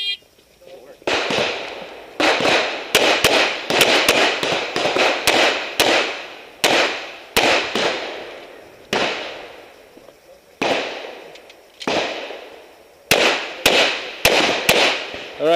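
Rapid pistol gunshots at an IDPA shooting match in Renton ring out in quick strings of sharp cracks, several bursts of shots with brief pauses between them, loud and close.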